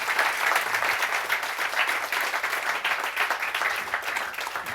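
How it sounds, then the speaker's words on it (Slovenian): Sustained audience applause after a talk at a live-streamed event, a dense, steady wash of many hands clapping that fills the room without pause. "hvala Ciril, en aplavz, prosim"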